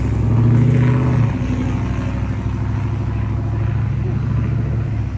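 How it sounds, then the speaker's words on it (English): Loud trucks and cars pass outside as a continuous low engine rumble with a heavier vehicle swelling early on, then steady traffic drone throughout. "These damn trucks with this loud ass cars"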